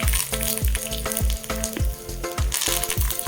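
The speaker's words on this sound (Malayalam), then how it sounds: "കടുക് നന്നായിട്ട് പൊട്ടിയതിന് ശേഷം നമ്മൾ കറിവേപ്പില ഇട്ട് കൊടുക്കുക." Curry leaves and popped mustard seeds fry in hot oil for a Kerala okra stir-fry: a loud, continuous close sizzle with repeated crackles and low thuds from stirring.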